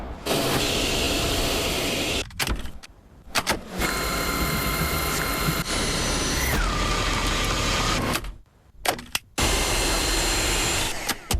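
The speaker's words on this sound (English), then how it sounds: "Dyson V6 Vacuum. No cord, just powerful suction." A Dyson V6 cordless vacuum cleaner runs with a loud, steady whirring hiss that briefly cuts out and restarts, mixed with other commercial sounds and tones.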